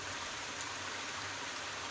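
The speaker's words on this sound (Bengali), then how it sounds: "কি সুন্দর বৃষ্টি হচ্ছে, বেশ ভালো লাগছে।" Rain falls in a soft, continuous hiss, fairly faint and even, with no voices.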